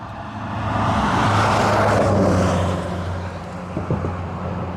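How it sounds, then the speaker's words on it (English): A pickup truck's engine rumbles close by, swelling in a low roar and then easing off as it drives. "Big Alberta pickup truck."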